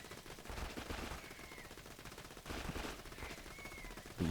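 Rapid gunfire from an infinity pistol in Borderlands 2, a steady stream of shots in two sustained bursts at moderate loudness, with a sharper impact near the end.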